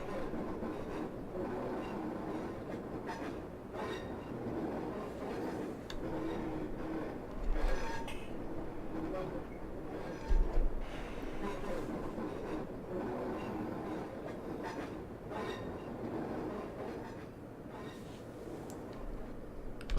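A Class 142 diesel unit in Train Simulator rolls along the rails with a steady mid-range rumble and faint rattling, a couple of short heavier thumps from the wheels partway through.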